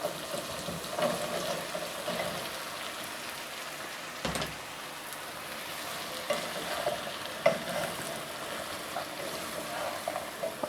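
Chopped pumpkin cooking in a pan for a home-style kaddu sabzi, stirred with steady scraping and a soft continuous sizzle, moderately close, with occasional louder clinks of the spoon against the pan.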